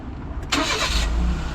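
Nissan Roox car engine starting: a brief starter crank burst, then the small engine catching and settling into a steady low idle, close and alone.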